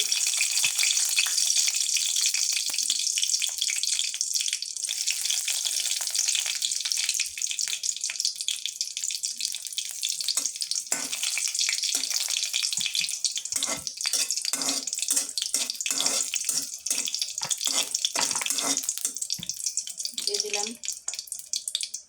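Dry ingredients hitting hot oil in a pan for a Bengali kochu bharta dish, a steady loud sizzle and hiss throughout, with scattered crackles and a voice talking faintly under it.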